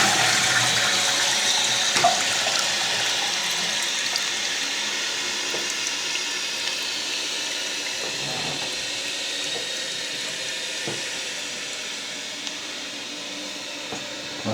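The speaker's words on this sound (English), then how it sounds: "So I'll give it a flush now and then you'll be able to see." A toilet cistern is flushed and refills with cold water, giving a steady hissing rush of water that runs continuously, with a few faint clunks and gurgles, and slowly eases off.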